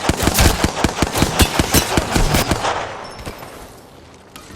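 Rapid automatic gunfire in the Apex Legends video game rattles loud and close in a steady stream of shots for about three seconds, then fades into a quieter tail.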